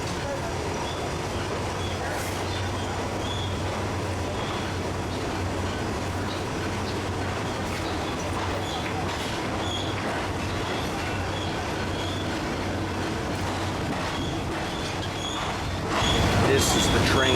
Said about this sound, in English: We begin our journey north on a third-class train.